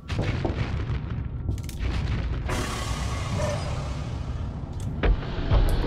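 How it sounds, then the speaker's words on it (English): Spaceship weapons fire in the video game Starsector, with heavy booming shots over a continuous low rumble, bursts of bright crackling blasts and a loud hit near the end, no talking. "we'll fire on this guy and ruin his day"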